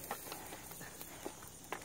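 Horse hooves stepping through a pasture, with a few soft, sparse clip-clop footfalls spread apart and heard faintly at a distance, no voices.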